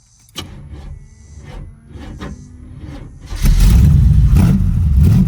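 A Vortec engine with new spark plugs and a weakening battery cranks with a few ticks and whirs, then catches and settles into a loud, steady idle rumble close by.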